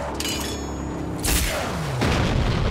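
A heavy gunshot boom sounds in the Mad Max video game, a single loud blast followed by a second impact and a lingering rumble.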